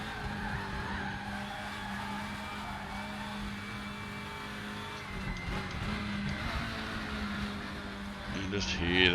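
Volvo WTCC race car in the RaceRoom sim at Salzburgring, with engine whine and tire squeal under light braking. Loud and continuous, with a rising note near the end.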